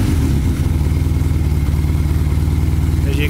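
A 1981 Kawasaki 440 LTD motorcycle engine idles steadily and close, a loud even low chug with a regular pulsing beat throughout, and no talking over it.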